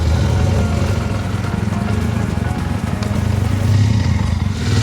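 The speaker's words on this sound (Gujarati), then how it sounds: "હવે આપણે ગાડીને સ્ટાર્ટ કરી છે અને આપણી બાઇક છે જાવા 42 2025નું મોડલ" A Jawa 42 motorcycle, 2025 model, runs with a steady low engine drone, near and fairly loud, with a slight rise in revs toward the end as it sets off.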